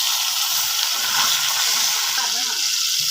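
Sliced ivy gourd fries in hot oil with whole fenugreek seeds, turmeric and salt, giving a loud, dense, continuous sizzle heard up close, with a faint voice underneath.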